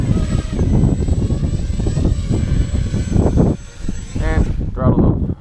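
A Walkera Runner 250 racing drone hovers and comes down to land, its steady high-pitched propeller whine loud and close, dropping and then surging briefly near the end as the throttle is worked.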